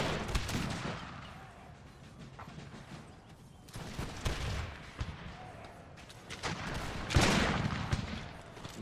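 Musket volleys from infantry units in Empire 2 Total War: bursts of crackling gunfire come in several waves over a battlefield din, with the loudest volley near the end.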